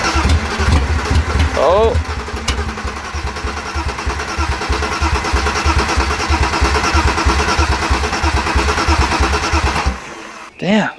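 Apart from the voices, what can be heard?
engine cranking over, not yet starting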